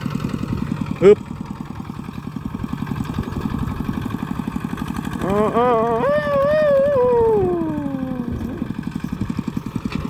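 A motorcycle engine labors uphill in first gear, its idle-like chug rising into a brief revving whine before settling, close by, with someone talking over it.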